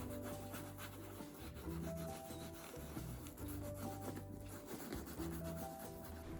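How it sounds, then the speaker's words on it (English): Steady, soft rubbing of the inside of a banana peel over a damaged leather surface, a continuous close scuffing texture with no talk. "rub the damaged area with the inside of the peel"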